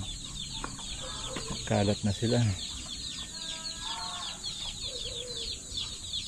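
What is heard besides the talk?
chickens clucking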